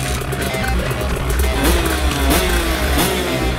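A KTM SXS 125 dirt bike revs and rides off, its engine note rising and falling in repeated surges, loud and close over a rough, noisy outdoor background.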